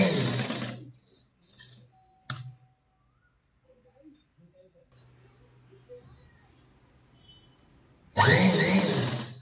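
A sewing machine stitches a boat-neck princess-cut blouse in short bursts of fast, close mechanical whirring, with a long quiet stretch of faint rustling between the runs and a loud sustained run at the end.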